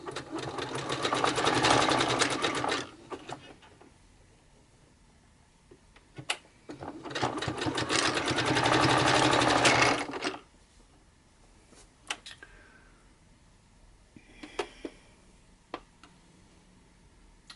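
A sewing machine stitches fabric in two long steady runs of rapid mechanical chatter, separated and followed by quieter clicks and handling noises close by.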